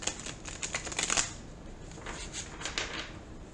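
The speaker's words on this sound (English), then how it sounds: "All right, guys, one more shuffle." Quick papery riffling bursts of tarot cards being shuffled, several rapid flutters early on, then softer repeated shuffles, close and moderately quiet.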